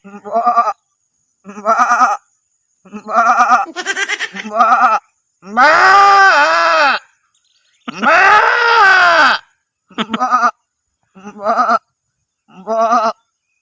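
A man imitates an old goat's bleat with about ten nasal calls, mostly short, plus two long, loud, wavering cries in the middle.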